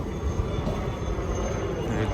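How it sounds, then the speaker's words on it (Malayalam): Old passenger train running on the rails in Kashmir, a steady, loud low rumble of wheels and carriage heard from inside for a couple of seconds. "അത് പുതിയ ട്രെയിനായിരുന്നു, ഇത് പഴയ ട്രെയിനാണ്."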